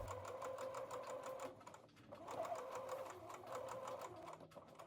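A sewing machine runs steadily while topstitching a fitted skirt around a kick pleat, its close, even rapid stitching pausing briefly near the middle and then resuming, with a faint low hum beneath.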